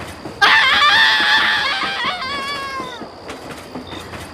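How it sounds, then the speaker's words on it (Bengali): A moving train in a Bengali suspense audio story: a loud, shrill harmonic screech bursts in near the start, then wavers and slowly fades over about three seconds, with no voices. "সুনীলালের বউ চলন্ত ট্রেনের সামনে ছেলেটাকে কোলে নিয়ে ঝাঁপিয়ে পড়লো"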